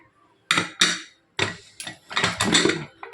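Metal pressure cooker lid being set on and closed over a pot of cooking toor dal, heard as a few sharp close clanks and scrapes of metal on metal, alone without talk.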